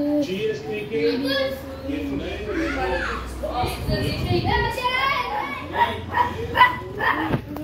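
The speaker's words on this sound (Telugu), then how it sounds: "మా కుక్క" A pet dog barks and yips in a village yard while children shout and play nearby, the barks mixed in with the voices.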